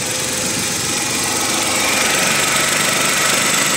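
Suzuki DA64 engine running at idle, a steady, close mechanical rumble with a faint knocking texture that holds evenly throughout without talk.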